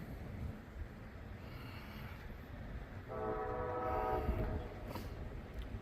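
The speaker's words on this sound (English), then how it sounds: "Okay, we got a tank train" A tank train rumbles past steadily while its horn sounds one sustained, moderately loud blast partway through, over the continuous rolling noise of the railcars.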